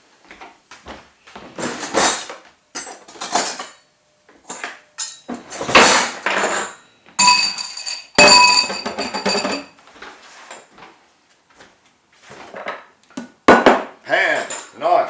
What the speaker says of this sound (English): Get yourself a pan. Get yourself a knife.